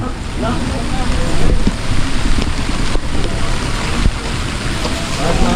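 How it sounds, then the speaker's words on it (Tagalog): Rain falls steadily on a house construction site just after a concrete slab pour, a continuous broadband hiss with soft crackling, fairly loud and even throughout, with no talk. "Umulan. Sana di naman lumakas yung ulan."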